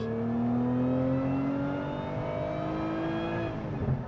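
A Lotus Emira sports car engine revs high and holds a loud, strained whine that slowly rises in pitch, then eases off near the end.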